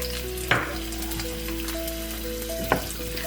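Chopped onions with cardamom, bay leaf and cinnamon frying in a pan, a steady soft sizzle with two sharp stirring clinks, close and alone.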